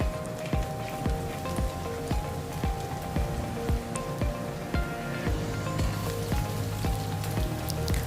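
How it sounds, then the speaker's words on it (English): Crushed ginger and garlic sizzle in hot oil in a pan on a high flame, a steady crackling hiss with irregular pops and spatters, close and continuous. "Now add crushed ginger and garlic to the oil. Saute it for 30 seconds."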